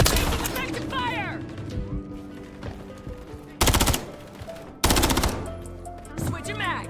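Gunfire in Call of Duty: Modern Warfare 3, rapid automatic bursts and loud single cracks mixed with game effects, sharp near blasts standing out over radio-style voice callouts.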